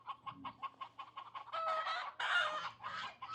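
Several chickens cluck in quick repeated bursts, then break into louder, drawn-out squawks, close by with no talking.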